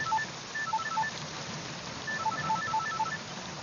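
Keypad tones from a mobile phone being dialed sound in two quick bursts of short beeps, faint and steady over a low background hiss, with no talking.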